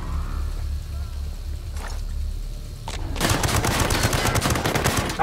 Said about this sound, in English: Time to use the LMG.